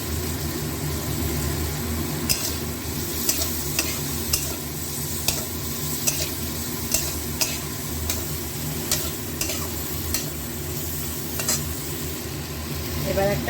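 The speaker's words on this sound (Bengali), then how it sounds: "এবার দিয়ে দেবো আদা আর কাঁচা লঙ্কা" Ginger and green chillies frying with salted vegetables in a pan, a steady sizzle with repeated sharp scraping stirs at a regular rhythm, close and moderately loud, no talk.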